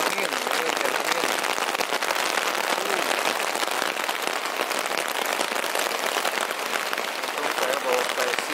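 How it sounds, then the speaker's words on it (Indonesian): Heavy rain driven by wind pounds a tent flysheet at a campsite, a dense, constant hiss and patter that stays loud and even from start to finish. "Hujan angin, hujan angin."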